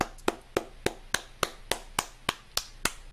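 Eleven sharp hand claps land close to a microphone for the game Americlap, each one crisp and evenly spaced at a steady rhythm, with no talking between them.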